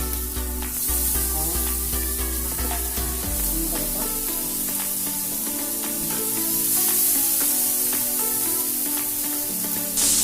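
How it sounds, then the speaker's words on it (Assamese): Chopped onions fry steadily in a little hot oil, giving a continuous close sizzle with crackling and small pops that keeps up without pause and without any voices. "এতিয়া পিঁয়াজখিনি অকণমান ৰঙচুৱা হোৱালৈকে ফ্ৰাই কৰিব লাগিব সুন্দৰ কৰি।"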